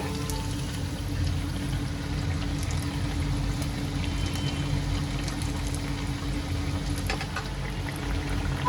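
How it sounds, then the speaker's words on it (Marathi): Semolina (rava) vadas fry in hot oil in a home kitchen, giving a steady, dense bubbling hiss with a low hum beneath that holds an even level throughout. "आता ह्यांना मी पलटी मारून घेते दुसऱ्या बाजूनी सुद्धा ह्यांना मी चांगलं तळून घेते"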